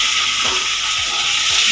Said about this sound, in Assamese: এয়া বৰমায়ে মাছ ভাজি